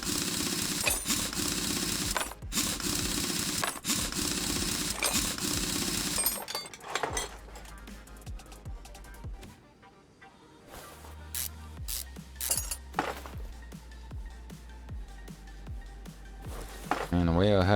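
Mechanical clanks, ratchet-like clicks and metallic rattles from a Ford Sierra rear axle being taken apart in Car Mechanic Simulator, over a steady loud background bed that drops away midway, then sparse tool clatter returns.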